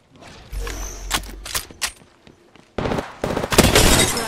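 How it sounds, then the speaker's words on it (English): Gunfire in the battle royale game Apex Legends during a ranked match, with a few sharp separate shots early on, then a denser, louder stretch of rapid overlapping fire near the end. "I'm taking fire. Getting shot at."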